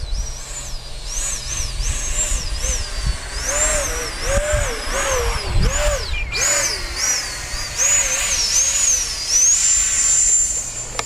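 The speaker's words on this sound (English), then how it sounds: "Throttle blipping." An FMS Rafale RC jet with a KMRC afterburner whines loudly overhead as its throttle is repeatedly blipped, the high turbine pitch rising and falling in quick swoops with a brief Doppler dip midway.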